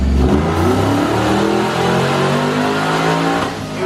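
A car engine revs hard and holds at high pitch, loud and close, its tone climbing and wavering steadily for several seconds.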